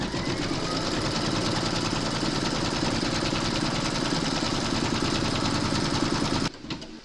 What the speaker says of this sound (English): Load your hoop into your machine and stitch round number 30